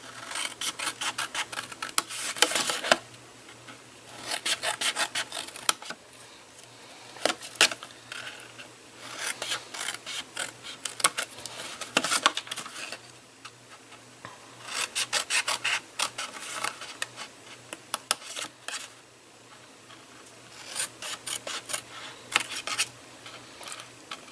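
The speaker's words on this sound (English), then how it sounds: "I'm using my little scissors and I can't cut straight with these things to save my life." Small scissors snipping and rasping through paper while a desk organizer gift box is cut out, repeated bursts of scratchy cuts separated by short pauses, close and fairly loud with no talk.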